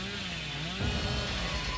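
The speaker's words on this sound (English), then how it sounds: "she won't hear this chainsaw" Chainsaw from the killer Billy in the horror game Dead by Daylight, a steady mid-distance engine drone that shifts pitch and swells slightly into a rougher rev partway through, with no talking.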